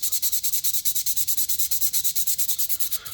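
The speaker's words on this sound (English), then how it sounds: "So I've got a sandpaper that will just smoothen out those edges" Sandpaper of about 180 grit rubs the edges of a guitar pickup bobbin from an old Hofner humbucker, in fast, even back-and-forth strokes with a steady scratchy rhythm, close and alone.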